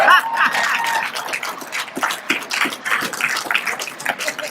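Audience applause after a speech at an NAACP gathering, a crowd clapping steadily and fairly loudly with scattered whoops and chuckles in the room.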